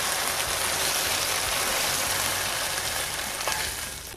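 Steady, dense sizzling of shredded pork frying hard in hot oil for Korean-Chinese jjajang-style shredded pork, loud and close, with faint clatter from stirring and no voices.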